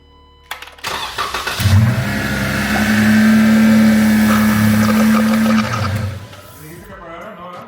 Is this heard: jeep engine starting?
yes